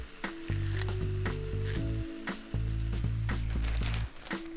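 A whole bag of spinach sizzles and crackles in a hot pan, a close, continuous frying hiss with a few louder spatters and brief lulls as the leaves are stirred.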